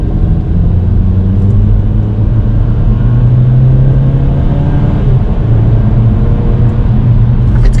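A Kia Seltos engine in sport mode revs up loudly and steadily as it accelerates, a deep rumbling drone rising in pitch, recorded close with no talking.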